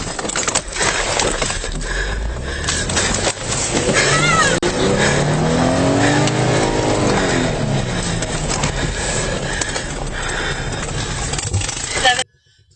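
A motorcycle engine drones and revs through a police pursuit, loud and continuous under heavy wind and road noise, with voices talking over it.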